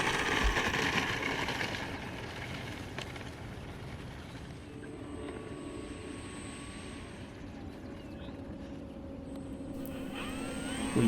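A radio-controlled Flightline F4U-1D Corsair model airplane with a 1600mm wingspan drones steadily at a distance, its propeller engine pitch shifting slightly as it flies past.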